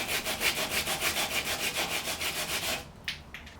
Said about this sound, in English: we're going to sand everywhere that there's rust